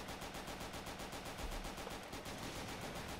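Sustained automatic gunfire in Left 4 Dead 2, aimed at an incendiary on the ground, rattling steadily and fairly faintly as a continuous stream of shots.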